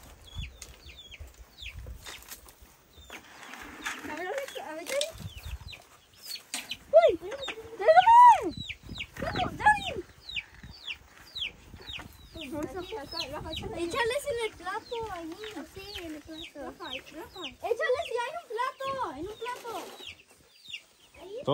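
Chickens on a farm in Oklahoma cluck and squawk busily while being fed pumpkins, with a few louder calls in the middle and rapid chattering pecking sounds close by, under occasional talk.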